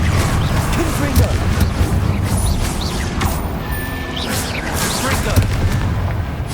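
Confringo blasting spells in the Hogwarts Legacy video game fire as repeated booming blasts and crackling impacts over a dense, busy battle din, with game voices mixed in throughout.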